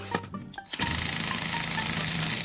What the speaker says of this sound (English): Getting off the rear wheels seemed quite tough with the impact that I was using.